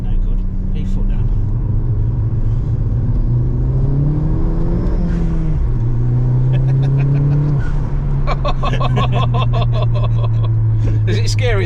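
A hybrid-turbocharged Ford Fiesta ST Mk7 engine pulls hard under acceleration, its tone climbing and shifting through gears, loud and close from inside the car, with people talking over it.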